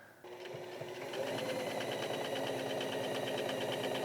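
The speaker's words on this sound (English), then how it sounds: "With the sleeves, I have simply folded back the fabric and am now top stitching it on itself" Sewing machine top stitching raincoat lining fabric runs in a steady, close, motor-driven whir with a rapid rhythmic needle pulse, starting after a brief pause and continuing evenly without speech.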